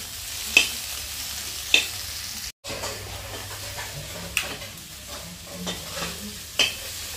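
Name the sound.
ash gourd being stir-fried on a clay stove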